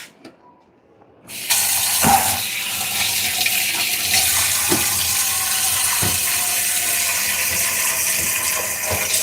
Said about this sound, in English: let me just wash my hands because this is getting out of control